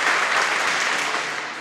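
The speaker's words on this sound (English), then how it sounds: "he's gonna get everybody clapping again" Crowd clapping at an indoor prep league track meet in 2022, a dense, continuous burst of applause filling the space, fairly loud and fading slightly at the end.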